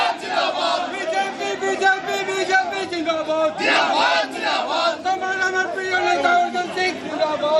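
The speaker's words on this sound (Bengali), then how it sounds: "আর এরপর তৃণমূলের পাল্টা স্লোগান বিজেপিরও।" A large crowd chants rival party slogans of Trinamool and BJP supporters outside a house in Bhatpara, voices blending into a loud, continuous, rhythmic roar throughout.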